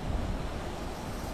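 Sea waves and surf at Shark Bay on Koh Tao, heard as a steady broadband wash mixed with wind buffeting the microphone, moderately loud and unbroken, with no voices.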